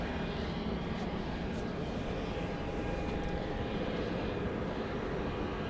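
A continuous, loud aircraft engine roar at Dallas Love Field airport drones steadily throughout without letting up.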